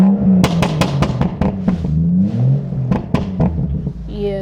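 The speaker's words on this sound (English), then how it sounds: "Let me give y'all a little rev." A stage 2 tuned BMW 435i engine revs up and back down in rising and falling bursts, loud and close, with some background voices.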